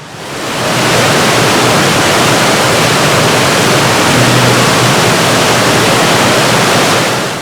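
Second Falls on the North Fork of Big Pine Creek, a mountain waterfall in the John Muir Wilderness, roars as a loud, steady, broadband rush of falling water that fills the whole scene without a break.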